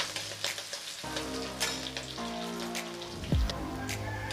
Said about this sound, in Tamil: பொடியாக நறுக்கின பூண்டு, பச்சை மிளகாய் போட்டு வதக்கிக்கலாங்க.